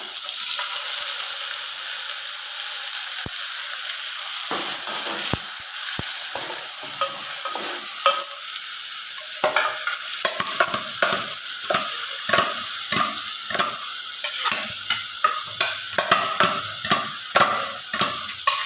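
Okra masala fries in oil while being stirred, a loud, steady sizzle with increasingly frequent scraping and clinking of the spoon against the pan, close and continuous.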